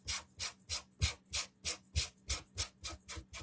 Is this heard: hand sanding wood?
yes